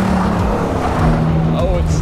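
A Ford Crown Victoria's engine roars steadily at high revs throughout, loud and close, with a brief tire-like squeal near the end.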